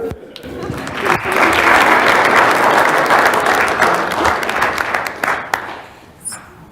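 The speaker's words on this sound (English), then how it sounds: "All right, now we can clap." An audience at a city council meeting breaks into applause, sharp claps at first that quickly swell into a loud, dense burst of many hands, then thin out and fade to scattered claps near the end.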